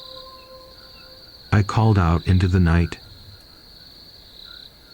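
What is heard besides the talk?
crickets chirping at night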